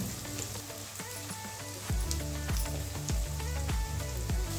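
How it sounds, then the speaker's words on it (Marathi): Onion, garlic, ginger and green chili frying in a pan for crispy chicken chilli, a soft sizzle with rhythmic thuds in the second half like chopping nearby. "कांदा, लसूण, अद्रक आणि मिरची हे फ्राय होते"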